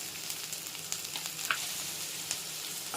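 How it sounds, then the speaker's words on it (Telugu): Beans for paneer fried rice fry on high heat in a pan, crackling in a continuous hiss broken by sharper pops and soft scraping as they are tossed, close and fairly quiet. "బీన్స్ వేగడానికి టైం పడుతుంది కాబట్టి హైలో పెట్టుకొని బాగా 2 మినిట్స్ టాస్ చేసుకున్నాం"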